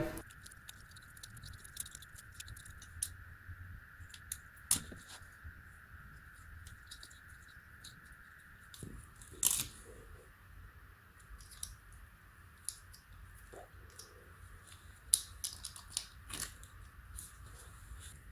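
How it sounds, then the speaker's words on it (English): Old tape is peeled and picked off the wiring loom of a 1988 Kawasaki KLR650 motorcycle, faint irregular crackles and ticks scattered over a low steady hum, with no voices. "we proceed to remove all the old tape that's been peeling off and replace it with new tape"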